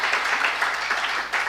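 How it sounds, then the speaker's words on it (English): An audience at a UN Women media roundtable in Nigeria claps in a short, dense burst of steady applause. "News Agency of Nigeria deserves a very loud round of applause"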